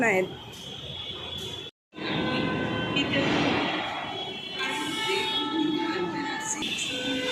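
A metro train rumbles and whines into a station, loud and close, while people chatter over the steady roar.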